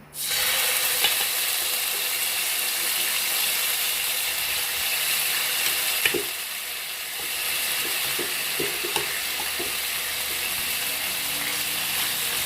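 Wagyu beef sizzling loudly in a hot pan, a dense continuous hiss that holds steady for the whole stretch, with occasional small pops and ticks.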